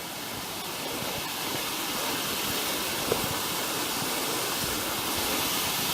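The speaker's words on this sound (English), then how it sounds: "Try and get a nice little waterfall here." Small waterfall in the Grose Valley, a steady rushing wash of falling water that fills the scene continuously at moderate loudness, with no voices.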